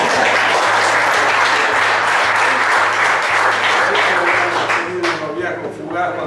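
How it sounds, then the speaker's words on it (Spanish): Sustained audience applause at a book presentation for a neighbourhood history, dense steady clapping throughout that thins toward the end, with voices faintly underneath. "Muy bien, ese aplaudo yo."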